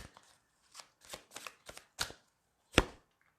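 Tarot cards shuffled in a series of short riffling bursts, about eight quick flurries with one sharper, louder snap near the end, close and alone without talk.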